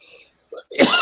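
A person coughs into a live microphone, a quiet opening sound followed by a short burst and then a loud, harsh cough that fills the end of the moment.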